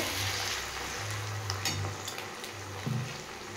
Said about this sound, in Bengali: এবার এটাকে আমাকে সমানে ভাজতে হবে।